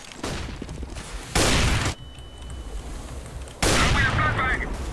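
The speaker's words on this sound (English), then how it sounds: "I am throwing a flashbang!" Flashbang grenades going off in a competitive shooter game, two loud broadband bursts arriving about two seconds apart amid steady game noise, with players talking over the action.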